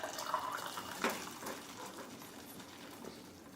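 Pasta water pouring through a strainer into a pot in a kitchen, a short splashing gush that peaks about a third of the way in, then trails off into a quieter trickle.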